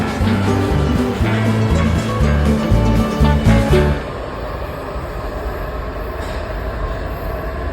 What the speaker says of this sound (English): This Branch Avenue bound Green Line train also leaves the station.